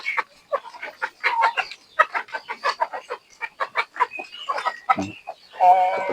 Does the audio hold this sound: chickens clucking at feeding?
yes